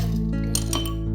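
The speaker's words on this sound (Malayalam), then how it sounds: "ഇനി നല്ല ഐസ് ക്യൂബ് ഇട്ട് കൊടുക്കുക" Ice cubes clink into a glass for a mojito, a few bright, close knocks over a short moment, heard alone without talk.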